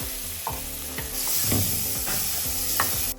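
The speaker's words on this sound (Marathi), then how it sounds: "त्याच्यामध्ये आपण दोन पळी तेल टाकून घ्यायचे छोट्या पळीनं लसूण मिरचे वाटल्याने चांगले परतून घ्यायची" Garlic and green chili paste sizzles steadily in hot oil in a kadai, with a spatula scraping and stirring a few times through the constant close frying hiss.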